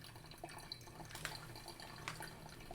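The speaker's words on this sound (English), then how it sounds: "Just by setting the Clever Dripper on top, we're going to allow the coffee to drain out of the device." Brewed coffee draining from a Clever Dripper into a vessel below, a soft steady trickle with occasional faint drips, quiet and close.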